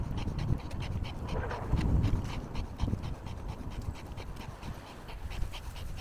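Heavy, rapid panting breaths close to the microphone, rhythmic and continuous, with a rushing background noise.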